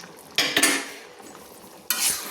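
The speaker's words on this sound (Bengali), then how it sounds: "দেখুন ভালো করে আমি নেড়ে নিচ্ছি" Vegetarian dal with freshly ground fried dry chilli spice stirred in a pot: two short bursts of scraping, clattering spoon strokes against the pot, separated by a quiet pause with a faint simmer underneath.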